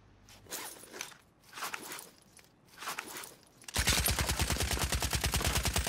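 Gunfire in Call of Duty Modern Warfare Warzone: a few bursts of rustling, crunching movement, then a sudden long rapid automatic volley of loud, close shots rattling evenly to the end.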